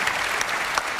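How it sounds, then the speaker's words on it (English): A conference audience at a national political party gathering gives a short burst of dense, steady applause, filling the hall for about a second. "Round of applause for Andrea."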